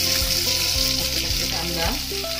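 Peanuts fry in hot oil for a green-chilli Khandeshi khichdi, a loud, dense, continuous sizzle heard close with no voices over it.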